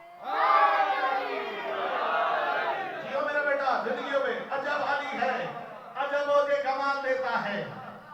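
A crowd at a 15 Rajab religious gathering in Nankana Sahib chants the slogan Naara-e-Haidar, loud massed voices rising and falling in sustained waves.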